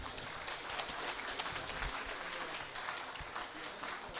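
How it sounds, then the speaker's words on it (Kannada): A crowd at a Karnataka award event claps loudly and continuously, a dense distant-sounding wash of applause throughout. "ಜೋರಾದ ಚಪ್ಪಾಳೆ ಹಾಕಿ."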